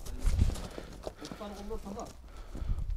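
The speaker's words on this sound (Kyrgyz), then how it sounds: "Араб жылкы." An Arab horse walking in Suusamyr, steady hoof clip-clops near and clear, with people talking over them.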